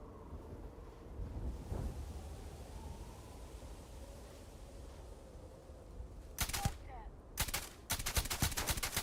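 Gunfire in Starfield: Shattered Space, heard as a couple of sharp bursts late in the clip over a low rumbling, wind-like ambience, with no talking.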